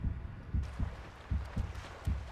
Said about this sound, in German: Und sein Herzschlag stabilisiert sich auch wieder.